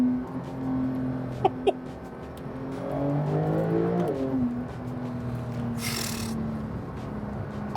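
A 2021 Porsche 911 Turbo S in Sport Plus mode with its exhaust baffles closed revs up, its engine tone climbing and falling smoothly, fairly close but muted and steady rather than loud.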